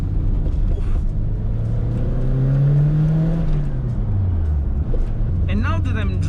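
A Renault 5 Turbo 2, a light Group B homologation car, drives with a loud continuous engine drone that rises in pitch then falls back, with a brief burst of higher whine near the end.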